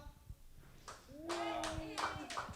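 Sparse, faint handclaps from a few audience members during a crowd vote at a comedy fight club, a handful of scattered claps mixed with nearby voices talking.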